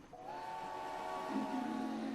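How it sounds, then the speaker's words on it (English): Steam locomotive whistles in the Transport Fever railway game at the start of a steam race, a sustained harmonic whistle holding steady for about two seconds with a second lower whistle joining near the end. "Listen for the whistles."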